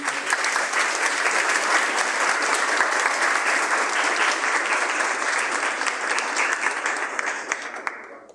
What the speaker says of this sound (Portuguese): Salva de palmas para ele.